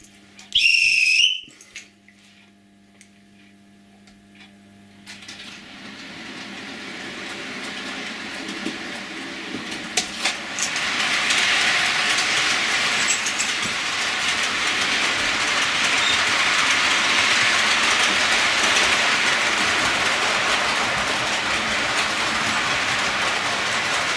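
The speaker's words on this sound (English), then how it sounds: "welcome to a short running session. Get a few locomotives in" OO gauge model railway locomotives run on a layout. A short high whistle comes first, then a quiet stretch, then a steadily building rumble with faint clickety-clack that stays loud and continuous to the end.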